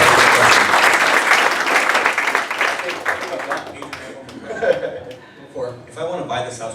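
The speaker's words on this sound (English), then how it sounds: "let's give him a round of applause for braving everybody" Loud clapping from an audience at an investor pitch event, strongest at the start and fading out, giving way to scattered chuckles and voices.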